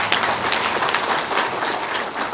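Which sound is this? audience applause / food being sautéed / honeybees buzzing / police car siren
audience applause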